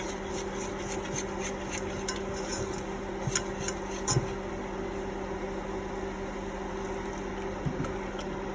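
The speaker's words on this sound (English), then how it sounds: "add a little bit of milk and slowly whisk it in to avoid getting lumps in your sauce" Milk being whisked into a blonde roux in a pan to make béchamel, heard as faint, repeated light metal clicks and scrapes over a steady low background hum.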